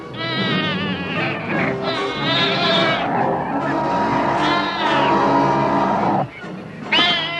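A wild cat fights a badger over the badger's hole, with loud snarling, yowling cries and harsh hisses rising and falling in long overlapping bursts, close and intense throughout.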